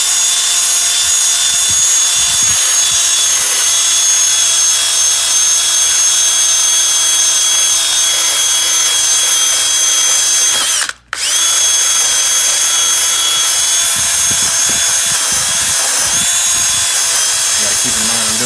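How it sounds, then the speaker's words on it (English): A DeWalt 20-volt drill fitted with a rust-removing attachment grinds continuously against a motorcycle wheel on a Honda CL350 Scrambler, a loud steady whine with a brief stop midway before resuming. "Basically, use this DeWalt 20-volt drill with the attachment on it,"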